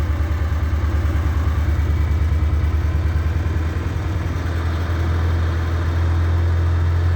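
Morris Minor engine ticking over just after a cold start, a steady, loud, close idle with an even low throb and light mechanical clatter, running alone without speech.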